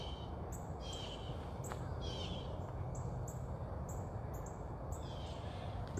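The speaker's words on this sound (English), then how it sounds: "hear some cardinals in the background as well" Cardinals whistling in the distance, faint repeated chirps and slurred notes over a steady outdoor hiss, with no voices present.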